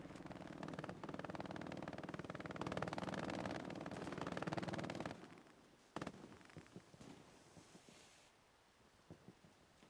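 A satchel charge blows up in the World War II shooter Hell Let Loose, a loud blast followed by rumbling debris that fades out into scattered distant crackles and pops.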